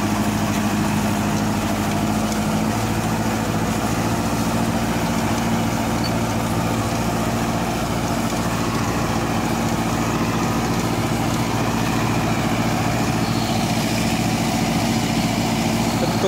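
A Swaraj Arjun 655 tractor engine runs steadily while driving a super seeder, a loud, continuous low diesel drone with a constant hum, heard alone with no talk throughout.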